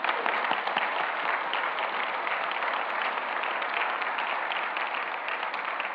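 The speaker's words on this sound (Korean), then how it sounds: "주님의 사랑과 격려의 박수로 화답해 주시겠습니다." A church congregation applauds missionaries and their families during a Sunday worship service, a steady, dense wash of many hands clapping that holds at an even level from start to finish with no voices above it.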